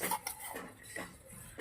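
A metal spoon stirs sugar into milk for pistachio kulfi, giving a few quick clinks and scrapes against the vessel. The sound is close and fairly quiet, with no talking.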